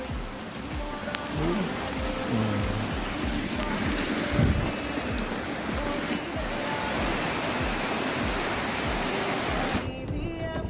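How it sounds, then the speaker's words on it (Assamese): Heavy rain pouring outdoors in a rural setting, a dense, continuous roar of falling water, loud and steady, with faint voices low underneath. "কিন্তু ইমান বৰষুণ দিলে"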